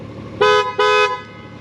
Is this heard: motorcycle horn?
yes